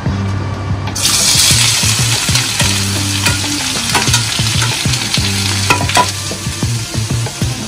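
Whole garam masala spices frying in a pan for a restaurant-style chicken curry, a loud steady sizzle that flares up when they go in, with stirring clicks and scrapes throughout, close up.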